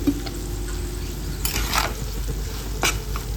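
Ground spice powder being stirred into chili pickle frying in a pan, with a steady sizzle and scraping stirs, a few louder strokes near the middle and end.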